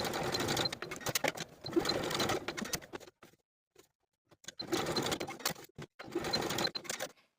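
A sewing machine stitches back and forth into a corner seam of a boho top in two fast bursts. Each burst lasts about three seconds, separated by a short quiet pause with faint clicks.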